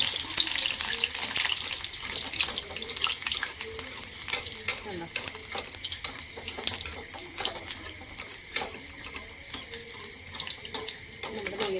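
Neyyappam, a sweet rice batter fritter, frying in oil with oil spooned over the top, giving a continuous close bubbling sizzle punctuated by light metallic clinks and splashes.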